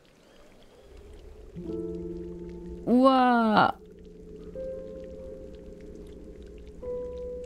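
Rainbow rain patters softly in the video game Chicory: A Colorful Tale, a low, continuous wash under sustained musical tones, interrupted by a brief excited exclamation from a player.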